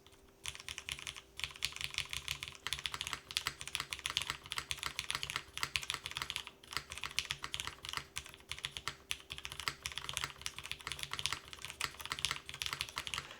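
Rapid, continuous typing on a Delta 40 mechanical keyboard with black keycaps, dense scratchy keystrokes clattering close up with brief pauses.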